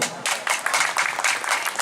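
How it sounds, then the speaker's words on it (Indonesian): Audience clapping at a karawitan music performance, a short burst of close, rapid handclaps from a small crowd, fairly loud and without talk. "Boleh tepuk tangan dulu"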